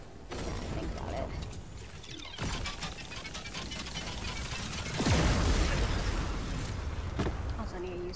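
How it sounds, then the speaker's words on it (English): An explosion erupts in Fortnite, a heavy booming burst rising out of clicking, mechanical gameplay noise partway through, with a person talking at times. "I actually need this to explode."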